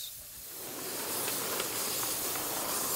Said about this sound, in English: This is what people really come for, the sight and sounds of a working steam engine.